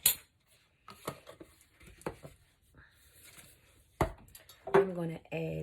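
A tablespoon scraping and clinking against a jar while cornstarch goes in, with several separate metallic taps and scrapes and a louder clink near the end, mixed with soft speech.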